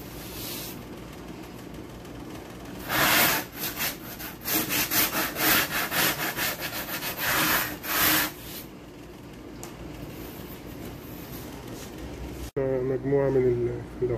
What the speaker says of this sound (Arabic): هذه صنفر حرف الساعة عشان ما يكونش فيه أي مشكلة ويعور حد مثلا، يبقى ناعم.